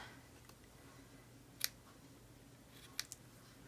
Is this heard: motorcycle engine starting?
no